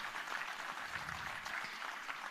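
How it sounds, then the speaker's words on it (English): Audience at a finance conference applauding to welcome the finance minister, continuous even clapping heard from a distance, faint and steady for its whole length, with no talk. "A huge round of applause and heartily welcome to her."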